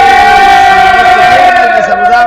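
Recorded crowd ovation played on a Spanish-language FM morning radio show, a loud, sustained roar of cheering voices filling the whole stretch without a break.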